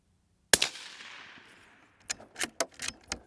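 A single crisp shot from a Ruger Precision Rimfire magnum rifle cracks out and rings off, followed by several quieter metallic clicks and clatters of handling.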